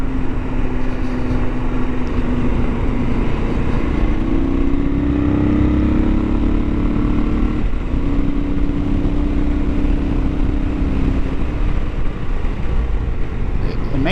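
A first-generation Kawasaki KLR650 motorcycle rides along a road, its engine a loud, continuous drone whose pitch climbs and drops in steps as it shifts through the gears, with wind noise throughout.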